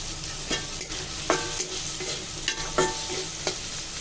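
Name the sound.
chicken frying in a pan with soy sauce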